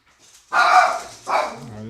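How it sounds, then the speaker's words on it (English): A dog barks loudly in two bursts, close by and indoors, with a brief pause between them and faint sounds before. "Oh, this dog's a maniac."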